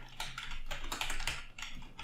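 Fast, uneven bursts of keystrokes on a computer keyboard while code is entered, close and fairly quiet, with short pauses between clusters of taps and no talking.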